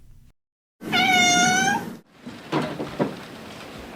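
A feral cat from a street colony gives one long, clear, drawn-out meow up close, followed by fainter scuffling and short sounds.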